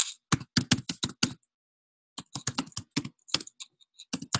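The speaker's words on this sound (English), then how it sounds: "I'm going to type here." Fast bursts of typing on a computer keyboard, close and distinct, with a run of keystrokes, a short pause, then another rapid run.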